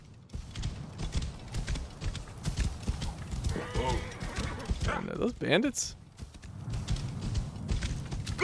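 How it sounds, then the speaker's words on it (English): A horse in Assassin's Creed Origins clip-clops along at a quick, rhythmic pace in the open desert, hoofbeats steady under someone talking, with a brief neigh partway through. "Let's just go on the horse."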